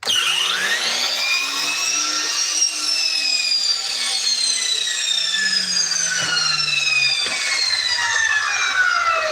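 A power saw recutting the mitered end of a wooden board in a woodworking shop, a loud, sustained whine as the motor spins up and the blade bites through the wood, slowly dropping in pitch as it cuts, with no one speaking.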